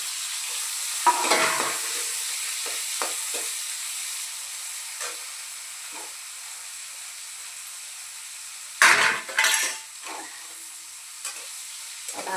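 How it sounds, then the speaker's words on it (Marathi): Bombay duck fish roasts in a pan under a steady low hiss and sizzle, broken by occasional scrapes and a louder burst of spattering about two-thirds of the way through, close and with no voices. "आता इथं बोंबील आहे ती आता बोंबील एका साईडला हे भाजून घ्यायचं"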